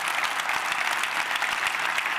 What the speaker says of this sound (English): Let's give Olivia another round of applause